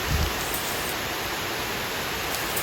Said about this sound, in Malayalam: നല്ല മഴ ഒപ്പം നല്ല കാറ്റുണ്ട് കേട്ടോ